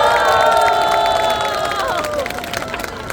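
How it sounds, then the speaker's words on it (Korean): A large outdoor festival crowd at Mapo's salted shrimp festival cheers and shouts with applause mixed in, loud and sustained, with tonal vocal cries rising above the clapping. "뜨거운 박수를 부탁드리겠습니다"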